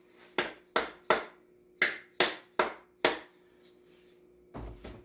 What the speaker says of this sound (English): Give them whack with your hand.